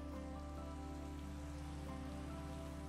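Rain falls in a hardcore survival video game, a soft steady patter that stays faint and constant throughout, with a low continuous hum beneath it.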